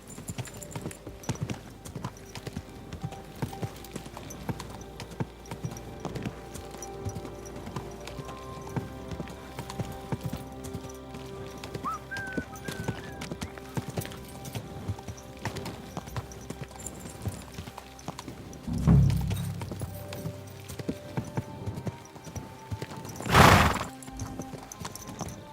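Horse hooves clip-clop steadily in Kingdom Come Deliverance 2, a continuous rhythmic clatter on ground, with two loud bursts near the end as the horse whinnies and snorts.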